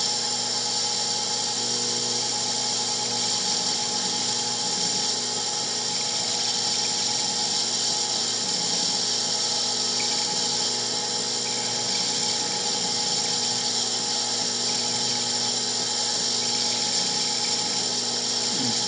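Small machine cutting a 20mm metal triangle pendant with wax or WD-40 as cutting fluid, a steady continuous high-pitched motor whine with a faint grinding edge, close and constant throughout with no speech.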